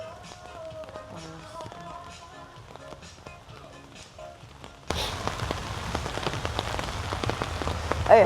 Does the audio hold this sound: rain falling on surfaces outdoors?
yes